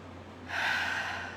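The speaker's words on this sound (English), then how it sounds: "take a couple of nice deep breaths" A single deep, slow inhale through the nose during a calm guided morning breathing exercise, close and soft, rising halfway through and holding steady to the end.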